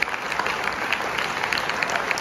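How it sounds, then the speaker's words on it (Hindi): An audience at a business seminar applauds together, a dense, loud burst of clapping that stays steady for the whole moment, with no voices standing out. "जबरदस्त ताली एक बार इस करोड़पति क्लब के लिए।"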